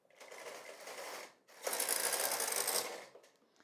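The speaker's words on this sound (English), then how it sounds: "I engage my KC knob and I go to the left, still on part, so it will not knit, but it does pre-select the needles" Brother 965i knitting machine carriage sliding left across the needle bed, pre-selecting needles: two close, whirring mechanical passes separated by a short pause, the second louder and brighter.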